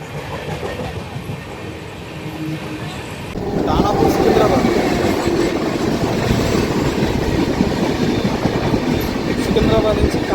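The Cocanada Express passenger train runs on the rails between Lingampalli and Kakinada. Its rolling rumble and wheel clatter rise sharply a few seconds in, then hold steady and loud from inside the carriage while voices murmur in the background.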